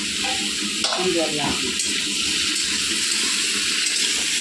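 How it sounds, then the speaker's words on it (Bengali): Food kosha-sautéing in a pan gives a steady, close sizzle and hiss throughout, with a few brief stirring clatters near the start. "রান্না কষা চলছে।"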